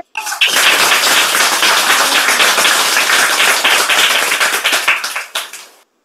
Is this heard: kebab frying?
no